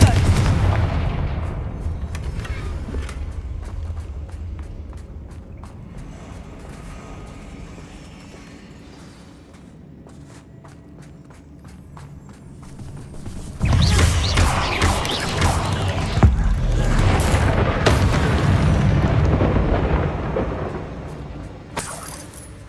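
Confringo fire spells blast in the Hogwarts Legacy video game, opening with a booming burst, easing to a quieter stretch, then a second run of loud crashing explosions with sharp impacts that fill most of the scene.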